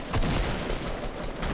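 Dense video game gunfire in Fortnite crackles as a brief, continuous volley of shots, loud and sustained without pause.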